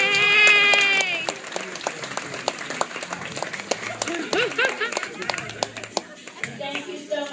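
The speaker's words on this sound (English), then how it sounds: "big round of applause" Applause at a gala recognition event: distinct, fairly close hand claps in an uneven rhythm, with a cheering voice at the start and talk and whoops scattered over them.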